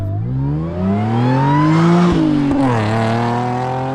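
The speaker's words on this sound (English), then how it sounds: "You can hear the supercharger a lot more now and it sounds absolutely wicked" A loud supercharged Audi S4 engine revs up with a rising pitch and audible supercharger whine as it accelerates, drops briefly at a gear change, then climbs again, close and continuous, on a countryside road.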